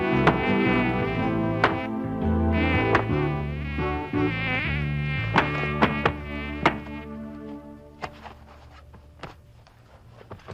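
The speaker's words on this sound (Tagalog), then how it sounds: "Bakit marami lamok dito?" A steady, high-pitched mosquito whine hums throughout, with sharp taps and thumps dotted over it, fading somewhat toward the end.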